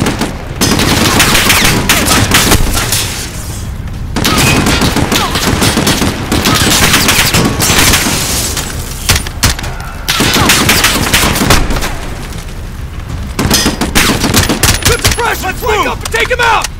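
Sustained machine gun fire from a suppressed MG position in Call of Duty: Modern Warfare, loud, dense bursts running almost continuously with brief gaps, while voices call out over the gunfire.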